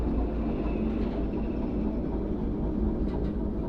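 A train in Derail Valley rolls along the rails with a continuous low rumble and steady clatter, close and even in level, with no voices over it.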